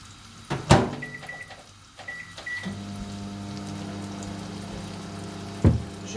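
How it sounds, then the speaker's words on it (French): Microwave oven heating water in a home kitchen: a couple of door or button clicks and a short beep series, then a steady low hum running alone, ending with another click. "je vais faire chauffer ça un petit peu au micro-ondes"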